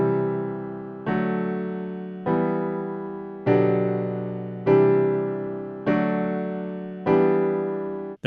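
A basic piano-style triad followed by revised, fuller chords, struck in seven sustained block chords about one second apart, each decaying slowly before the next, close and clear with no speech.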